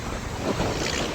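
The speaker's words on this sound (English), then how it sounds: "It's windy. It comes in gusts." Gusty wind buffets the microphone outdoors, a broad steady roar that swells slightly midway with no voices present.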